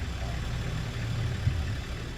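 A vehicle engine idles at tick over in first gear, low range, near an 8-foot drop to water: a steady low rumble with a brief bump near the middle, no talk.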